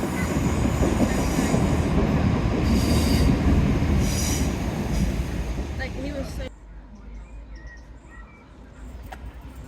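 A train rumbles past loudly at Teignmouth with steady rolling noise and screeching wheels, then fades abruptly to quieter background sound near the end.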